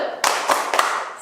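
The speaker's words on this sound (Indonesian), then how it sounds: "Tepuk salut." Children clapping a short rhythmic salute pattern at a Sunday children's church gathering, a few sharp close claps in quick succession, loud and alone.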